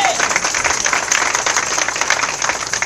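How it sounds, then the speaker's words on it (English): A church congregation claps together during a praise and worship service, a dense, even burst of many hands that stays loud and steady throughout, with faint crowd murmur underneath. "Please clap for that"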